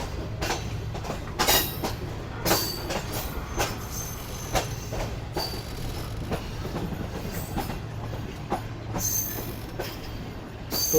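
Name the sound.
Pak Business Express train changing track onto main line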